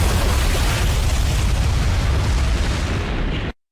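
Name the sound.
explosion of a bomb hitting a ship in a TV show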